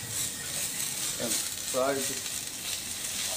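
Ground cumin and coriander sizzle in hot fat as they fry for a vegetarian khichdi, a steady close crackling hiss that runs throughout, with a voice speaking briefly over it.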